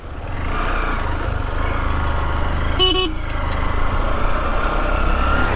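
A BMW G310RR motorcycle engine runs at a steady idle, loud and close, with a brief horn-like toot partway through and no speech.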